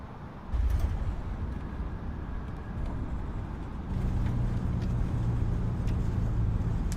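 An A32NX airliner in Microsoft Flight Simulator 2020 rolls out on the runway, its engines a low, continuous rumbling roar that grows louder partway through as reverse thrust builds, steady and close throughout.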